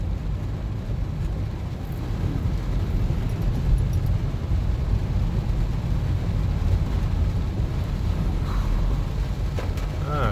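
A car drives steadily through floodwater near the Yabe River, giving a continuous low rumble and wash from the tyres and engine throughout.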